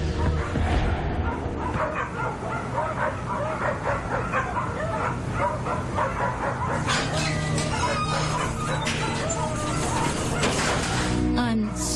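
A sick dog at the vet whimpers, yips and barks repeatedly in a dense, busy stretch, its cries coming in rapid bursts over a constant background with some voices mixed in.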